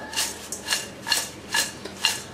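Thin poha chivda being tossed and mixed by hand, giving five soft, evenly spaced crisp rustling sweeps of dry flakes, close and moderately loud with no talk.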